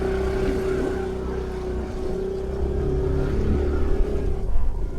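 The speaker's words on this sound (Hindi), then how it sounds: "देखते हैं ये स्कूटी चढ़ पाती नहीं चढ़ पाती है" A 110cc scooter's small engine labours steadily up a hill on a forest road, a continuous droning hum that swells slightly toward the end, heard alone with no speech.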